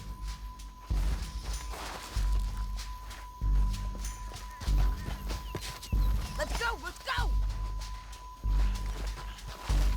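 Rhythmic hoof clip-clop from a horse in Red Dead Redemption 2 gameplay, repeating steadily throughout over a low engine-like rumble, with characters talking on top.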